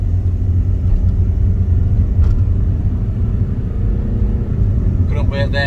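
From inside the cabin, a Mitsubishi Chariot's turbocharged 4D68 engine gives a loud, low rumble as it pulls away, steady throughout with a faint rattle toward the end and voices talking under it.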